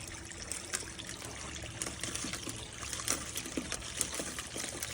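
Water carries bank run material through a 6-foot by 42-inch Dream Mat power sluice into a collection tub, making a continuous close trickling and splashing flow with small sharp spatters throughout.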